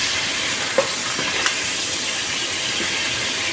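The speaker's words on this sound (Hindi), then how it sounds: "और थोड़ी देर इसको फ्राई होने देंगे।" Beef pieces frying in a pan with ginger garlic paste give a steady, close sizzle, with a couple of brief stirring clinks.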